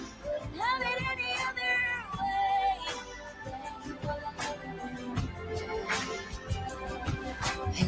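A cat meows several times in drawn-out, rising calls over steady pop music playing in the background.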